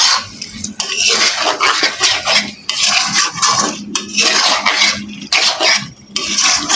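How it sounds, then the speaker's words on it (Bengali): A utensil stirring cashew paste into chicken in a pan over low heat, repeated loud scraping and clattering strokes in an uneven rhythm, close up with no talking. "বাদামটা দিয়ে ভালো করে মিশিয়ে নিচ্ছি"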